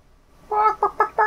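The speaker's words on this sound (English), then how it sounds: "Outside, where the chickens are." Chickens clucking in the video game Life Is Strange, a few short close clucks in quick succession after a quiet start, with no talk over them.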